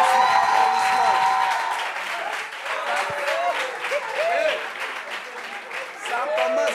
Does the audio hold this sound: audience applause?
yes